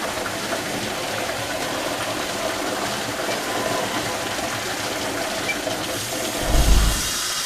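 Water gushes steadily through the main drain of a dry pipe fire sprinkler system, a constant rushing hiss with a brief low thump near the end.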